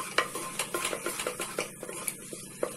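Turmeric, garam masala and chili powder being stirred in a pan for masala rice: a quick series of light scraping strokes over a faint, steady sizzle.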